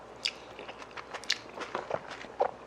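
Crunchy sweet and sour pork (tangsuyuk) being chewed close up, with several crisp crunching bites scattered irregularly over a few seconds and no talking.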